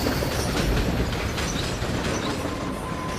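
A train heading to Turkey runs along the rails in a film scene, a loud, continuous rumble with a faint rhythmic clatter and no voices.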